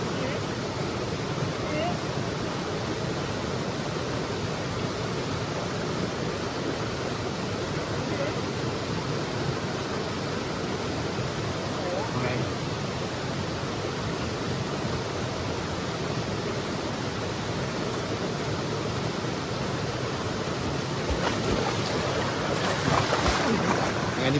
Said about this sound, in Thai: ทุกคนน้ำแรงนะครับ